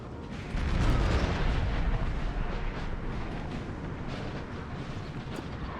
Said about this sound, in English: they'll randomly just start shooting volleys at something when there is nothing